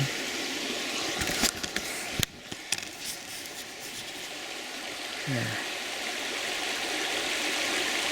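A river flows along the edge of the woods in a steady, even rush of water, heard close and fairly soft, with a few brief knocks and rustles over it.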